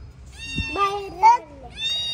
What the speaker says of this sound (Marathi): इकडे कुठून आले मांजर?